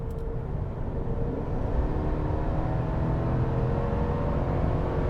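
A 2021 GMC Sierra AT4 pickup with the 5.3-liter V8 accelerates hard on a test drive, its engine tone climbing steadily under continuous road and cabin rumble, heard from inside with no talking.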